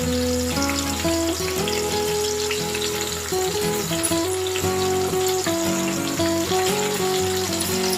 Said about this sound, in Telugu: ఇప్పుడు ఒక 2 minutes ఒట్టి ఉల్లిపాయలు ఫ్రై చేసుకుందాం